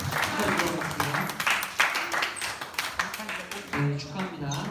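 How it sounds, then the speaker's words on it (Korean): A congregation at a Korean church youth Sunday service applauds warmly with dense, continuous clapping that rises and falls over several seconds before starting to thin out. "우리 다시 한번 축하의 박수로 우리 다시 축하드리도록 하겠습니다."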